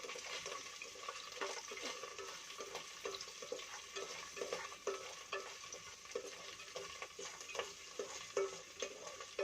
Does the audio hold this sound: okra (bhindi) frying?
yes